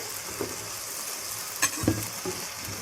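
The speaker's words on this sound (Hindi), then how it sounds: "अब हम टमाटर गलने तक इसको पकाएंगे।" Peeled tomatoes cooking with browned onions in a pan for dhaba-style chicken curry, giving a soft, steady sizzle with a few louder stirring clatters near the end.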